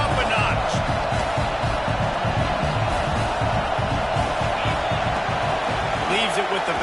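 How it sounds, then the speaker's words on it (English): A football stadium crowd at an Arkansas vs Florida game roars steadily and stays loud throughout, with a commentator talking over the noise. "this crowd is turning it up a notch."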